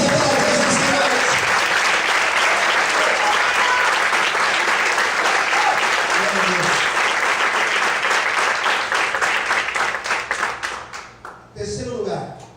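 A church congregation applauding during a sermon, a long, full wash of clapping that gradually thins out over the last two seconds as a voice starts speaking.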